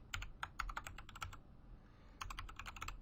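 Typing on a computer keyboard, a rapid run of crisp clicking keystrokes, then a pause and a second burst of keys near the end, close and clear with no talking.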